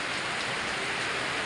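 Steady rain falls as a dense, even hiss, close and continuous.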